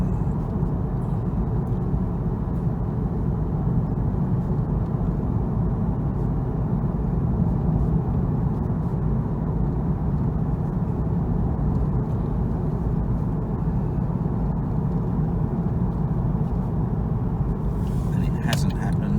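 A Porsche 911 with a PSM fault drives in third gear, its engine a steady low rumble with road noise from inside the car. The sound holds constant throughout, and someone talks over it.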